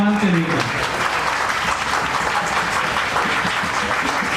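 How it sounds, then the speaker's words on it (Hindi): A packed hall at an Ambedkar Jayanti gathering applauds loudly in honour of Babasaheb Ambedkar, continuous dense clapping that carries on after a voice briefly sounds at the start. "तो बाबा साहब अम्बेडकर के लिए एक बार जोरदार तालियां।"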